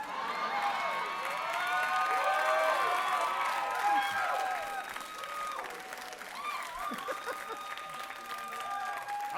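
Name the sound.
comedy club audience applauding and cheering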